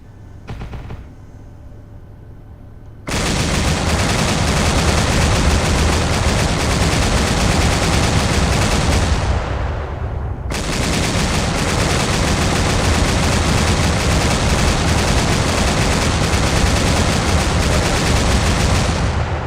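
Sustained heavy automatic gunfire in a military video game rakes sniper-held smokestacks across a city, loud and continuous, with a brief pause before the firing resumes.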